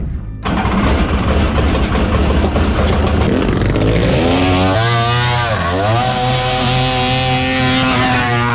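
A mini jet boat's loud 1200R power-valve two-stroke engine with triple pipes roars steadily, revving up and down with a harsh buzzing tone that climbs and dips, close and continuous.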